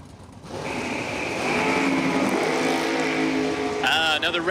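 A Ford Thunderbird and a 1973 Camaro rev and launch in a drag race, their engines rising from a low rumble into a loud, sustained roar, with a voice speaking over the engines.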